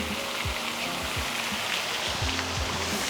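Water from a fountain in Rome splashes in a constant, close rushing wash, with soft low thuds recurring every half second or so.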